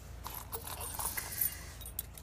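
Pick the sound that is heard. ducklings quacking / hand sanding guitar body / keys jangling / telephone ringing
keys jangling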